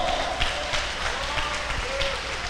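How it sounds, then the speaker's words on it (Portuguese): A church congregation applauds, a continuous wash of clapping with a faint vocal tone drifting beneath and some voices mixed into the crowd noise. "Pode aplaudir a Jesus nosso Salvador."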